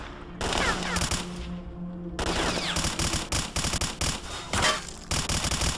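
Rapid bursts of automatic gunfire from a weapon in the video game STALKER: Clear Sky, loud and close, with several sharp bursts separated by brief pauses.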